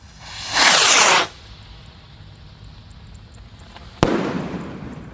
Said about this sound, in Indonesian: Ini Roman Candle lebih besar lagi. Kita lihat reaksinya ya. Langsung kita nyalakan teman-teman.